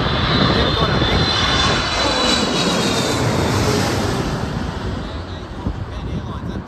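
Japan Airlines Boeing 777 or 787 jet landing at Heathrow, heard as a loud, steady roar of engines that fills the whole stretch and eases slightly toward the end.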